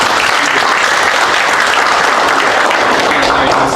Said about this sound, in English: We'd just like one more round of applause for Temur real quick